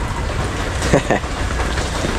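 Rain falls steadily outdoors around a covered seating area, a constant broadband hiss running the whole way through, with a brief faint voice just past the midpoint.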